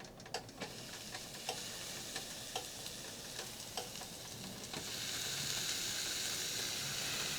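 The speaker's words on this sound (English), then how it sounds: "we're going to put the eggplant here on our heated up grill" Salted eggplant is laid on a heated grill, a close crackling sizzle with several sharp ticks and taps early on, then a louder, steady hiss with no voices.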